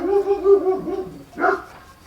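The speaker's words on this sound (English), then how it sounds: "Chip likes to bark at the kids coming home from school." A pet dog named Chip barks at children walking home from school, a few loud yelps at the start and another short burst after a pause, fairly close.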